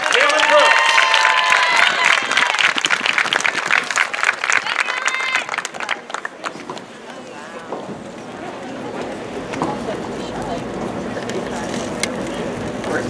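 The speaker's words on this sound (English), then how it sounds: "Let's give a round of applause." Audience applause and cheering at a Kutztown University women's soccer senior night, a loud burst of clapping in the first half that thins into scattered claps and crowd murmur.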